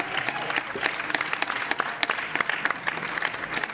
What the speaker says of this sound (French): Vous pouvez applaudir ces chroniqueurs tout de même.